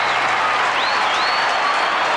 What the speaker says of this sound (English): Flags flying, people cheering, and Adelaide pulled to within 2 points.